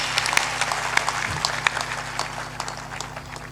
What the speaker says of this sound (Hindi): ताली बजाकर उनका अभिनंदन करें